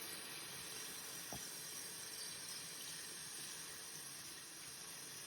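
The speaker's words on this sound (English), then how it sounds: "sometimes that means putting water in here and then putting your piece in and also adding more water" Water runs into a basin to soak a knitted triangle shawl, a faint, continuous hiss and rush with one brief knock partway through.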